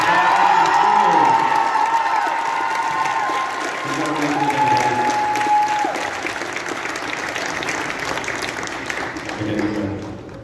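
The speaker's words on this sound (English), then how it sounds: "one more huge round of applause for the 25" Loud applause and cheering from a school gym audience at a high school show choir cabaret, with whoops and shouts over dense clapping that stays strong for several seconds before easing slightly.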